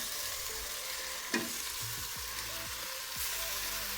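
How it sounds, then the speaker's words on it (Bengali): Boiled papaya frying in ghee and sugar in a pan, a quiet steady sizzle with a few scraping stirs of a spoon and one brief knock, close and fairly soft. "চিনির সাথে আর ঘিয়ের সাথে ভালোভাবে কষিয়ে নেব"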